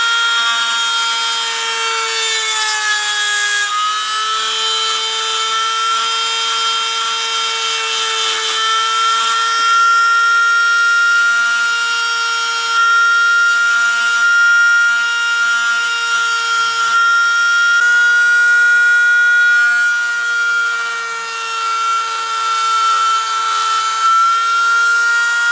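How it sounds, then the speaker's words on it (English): Dremel rotary tool marking a metal engine part during engine dismantling, a loud, steady high-pitched whine with a grinding buzz that wavers slightly in pitch as it engages the surface. "we're going to try and use a Dremel tool to mark just 1"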